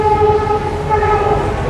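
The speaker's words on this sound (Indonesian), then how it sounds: "Atuh kereta." A train passing close by with a steady loud rumble and sustained tonal horn-like whine, continuous and without pauses.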